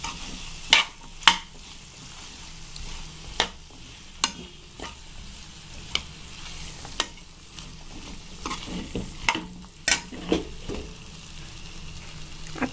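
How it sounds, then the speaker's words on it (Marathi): Green beans stir-fry with salt in a pan under a soft background sizzle, while a spatula scrapes and taps the pan in sharp, irregular strokes close by. No one speaks. "आता आपण हे सगळं मिक्स करून घेऊया।"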